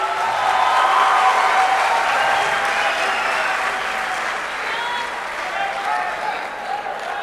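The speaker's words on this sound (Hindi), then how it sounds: "दोस्तों तहजीब भाई के लिए भरपूर तालियां हो जानी चाहिए।" At a mushaira, a crowd gives loud, sustained applause for the poet Tehzeeb Hafi, heard as a dense, continuous wall of clapping with crowd noise mixed in, holding steady before dipping slightly and swelling again.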